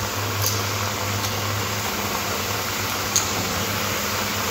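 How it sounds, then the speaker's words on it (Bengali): Lentil koftas fry in hot oil in a wok, giving a steady, even sizzle that stays at the same level throughout with no talking. "তেলটা গরম হয়ে গেলে কোপ্তাগুলো তেলের মধ্যে দিয়ে একটু ভেজে নেব।"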